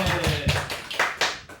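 A church congregation claps during a sermon at a Christian news association meeting, a few loose, uneven bursts of hand claps rather than sustained applause.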